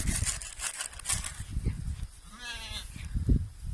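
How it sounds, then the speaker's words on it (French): Sheep and young lambs bleat in a farm pen amid rustling and shuffling, with one clear wavering bleat in the middle and other animal calls mixed into the noisy close-up background. "nous voilà dans le parc des moutons avec les petits agneaux."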